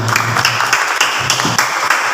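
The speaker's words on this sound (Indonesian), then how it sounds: "Ya, tepuk tangan buat Pak Igo." A crowd at an Indonesian gathering gives a short burst of applause for Pak Igo, the claps coming in quick, loud, uneven beats over a low background hum.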